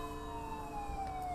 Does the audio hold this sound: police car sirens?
yes